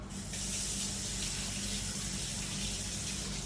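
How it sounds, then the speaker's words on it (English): Tap water runs steadily into a kitchen sink as hands are rinsed underneath, a continuous, fairly loud close-up splashing rush with no break and no talking. "wash your hands there quickly. Just run under the tap."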